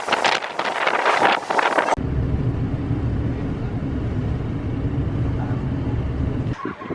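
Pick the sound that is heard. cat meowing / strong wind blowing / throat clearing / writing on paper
strong wind blowing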